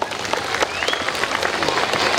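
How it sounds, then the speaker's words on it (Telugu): Parents at a children's school performance event clap together, a dense, steady burst of applause from a crowd close by with a few voices mixed in. "ఇప్పటి వరకు పర్ఫామ్ చేసిన పిల్లలందరికీ గట్టిగా చప్పట్లు కొడదామా"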